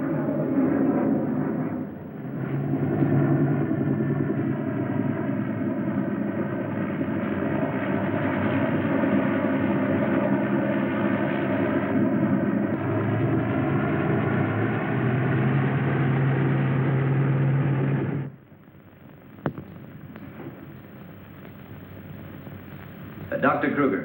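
A droning propeller airplane engine circling at 1000 feet over wreckage hums steadily for most of the clip, then cuts off abruptly, leaving a quieter background.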